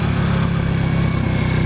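A 1981 Yamaha XS400 Heritage motorcycle engine runs steadily on a test ride, a loud, close, rhythmic low throb with a constant drone and no voices.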